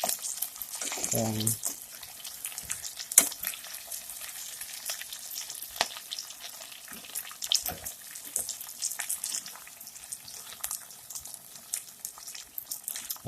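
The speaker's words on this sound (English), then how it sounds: "This time, there's some good meat and they're being fried too." Brisket and navy beans frying in a pan: a steady close sizzle with scraping stir strokes and a sharp clack, plus a brief spoken word.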